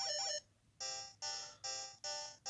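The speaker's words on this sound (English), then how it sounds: "Yeah, Roshi is evolving." Pokémon evolution jingle from Pokemon Yellow, a bright chiptune melody in repeated bursts: one opening phrase, a short gap, then four evenly spaced bright tones, loud and alone.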